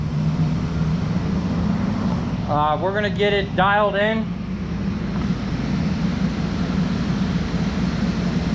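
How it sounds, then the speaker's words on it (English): A workshop exhaust fan drones steadily and loudly through the whole stretch, a constant broadband roar with someone speaking briefly over it partway through. "Turn my exhaust back on."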